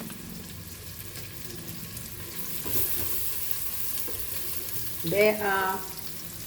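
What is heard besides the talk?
okra (bhindi) frying and stirring in a pan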